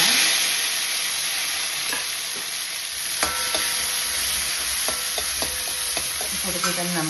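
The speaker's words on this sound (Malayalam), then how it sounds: "പൊട്ടി നമുക്ക് ഈ ഉള്ളി ഇങ്ങോട്ട് ഇട്ട് കൊടുക്കാം." Onion added to hot oil with popping mustard seeds, frying for a Kerala-style raw jackfruit thoran; a steady loud sizzle throughout with occasional stirring clinks and taps of a spoon against the pan.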